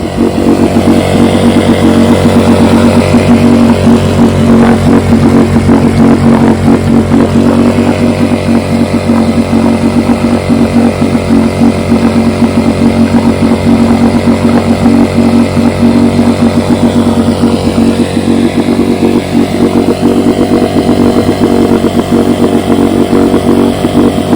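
A 1971 Johnson 9.5 HP outboard motor runs in a test barrel, loud and steady at a constant buzzing idle, close by, with a slight shift in tone near the end and no voices.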